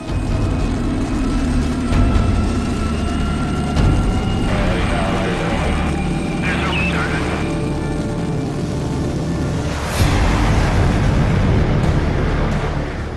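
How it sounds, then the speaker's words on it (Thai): An F-15 Eagle fighter jet taking off, a continuous heavy rumble and roar with a brief surge near the end, loud and sustained throughout. "F-15 ออกบิน"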